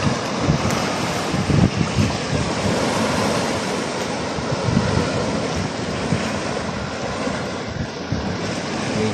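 Strong sea waves crash and roar along the shore in a continuous loud surge, with heavy wind buffeting the microphone throughout.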